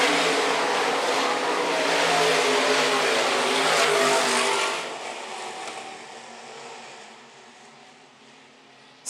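IMCA stock cars racing on a dirt oval at Phillips County Raceway, a loud roar of several engines passing close, then fading into a more distant drone as the pack moves away.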